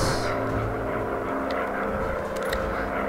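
Droning engine of a WW1 bomber aircraft in the game Warplanes WW1 Fighters, a steady loud propeller hum with layered low tones running continuously, without talk.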